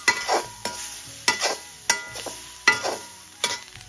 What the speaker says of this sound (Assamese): এতিয়া মই নাৰিকলখিনি ভাজি লম খালি কেৰাহীত